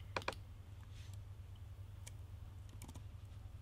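Faint computer keyboard typing comes in a quick cluster of taps and a few scattered keystrokes over a low steady hum.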